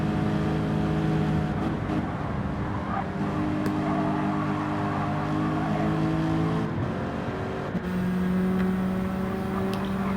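Suzuki race cars lap Big Willow track, with a Lexus running behind them. Their engines rev and drone continuously with shifting pitch as the cars accelerate and change gears, loud and close throughout.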